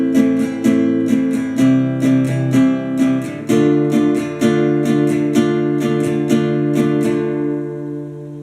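Acoustic guitar strummed in a repeating up-up-down on-off pattern for a song, bright chords ringing close and steady with crisp strum attacks, no voices.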